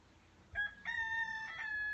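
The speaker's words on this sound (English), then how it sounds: "And with the rooster calling it" A rooster crows outdoors, one long drawn-out cock-a-doodle-doo rising after a short opening note, moderately close and alone over faint background hiss.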